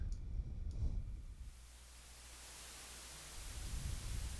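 White noise test signal playing in Logic Pro X, a flat hiss like TV static that swells briefly with a low thump, then settles into a steady, quieter wash.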